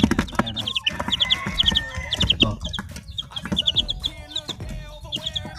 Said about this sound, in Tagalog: tested na rin itong mga manok na to